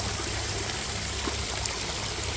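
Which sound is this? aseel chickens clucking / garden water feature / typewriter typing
garden water feature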